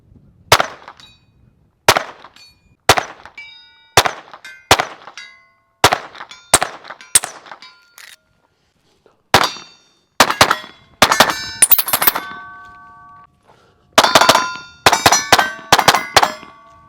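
Rifle shots ringing off 6-inch steel plates at 100 yards, a run of sharp, evenly spaced clangs with bright metallic ring, then a rapid cluster of quicker hits near the end, no talking.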